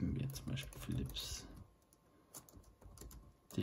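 Rapid computer-keyboard typing while entering a device name for a Spektrum DX20 transmitter registration, quick light clicks in short bursts, heard close and quiet beneath someone speaking.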